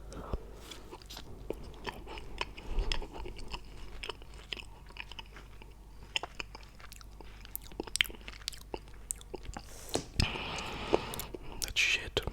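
Close, quiet chewing and soft crunching of mochi ice cream in plastic wrapping, with wet mouth sounds and small bites repeating steadily, some whispery breaths mixed in.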